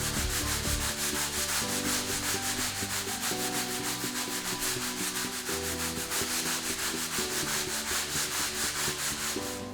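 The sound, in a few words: deck brush scrubbing a Polytek floor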